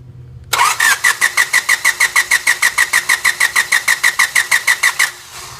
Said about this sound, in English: key on engine cranking test